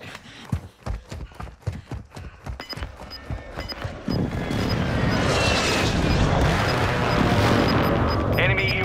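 Airstrike explosions in the video game Warzone 2.0, a run of rapid sharp booming blasts that give way after a few seconds to a sustained rumbling roar.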